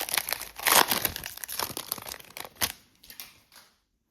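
A foil trading card pack being torn open and crinkled by hand during a football card box opening, with close, sharp crackling and ripping bursts that taper off into quiet at the end.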